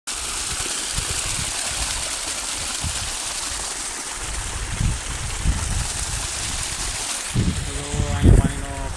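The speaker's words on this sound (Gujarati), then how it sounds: "અહીંયા પાણીનો ખડખડીઓ પડે છે." Irrigation water gushing and trickling through a peanut field, a steady rushing flow with bursts of louder splashing, outdoors and close, while people talk intermittently.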